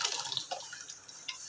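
Tempering is poured into dal, a soft liquid splash and trickle with faint dripping, brief and fairly quiet.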